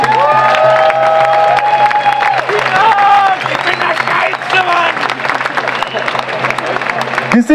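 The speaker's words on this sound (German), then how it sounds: "Einen Applaus für euch selbst." Crowd applause, cheering and whoops at an outdoor anti-Corona-measures demonstration in Berlin, loud and continuous, with voices shouting over the clapping and some amplified tonal sounds mixed in.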